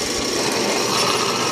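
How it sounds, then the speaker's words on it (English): A power drill grinds steadily into a metal plate on a Ransomes mower deck, a continuous harsh, buzzing whine that stays loud and close throughout the short stretch. "We're drilling."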